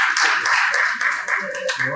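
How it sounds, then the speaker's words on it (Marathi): Audience applause at a Marathi ghazal recital evening, a dense patter of many hands clapping continuously and close, with a voice faintly mixed in. "जोरदार टाळ्या"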